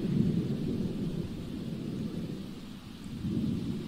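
Rumbling thunder from a lightning strike in the game Loki's Story rolls on as a steady low roar for the whole stretch, swelling again near the end, with a hiss like rain underneath and no talk.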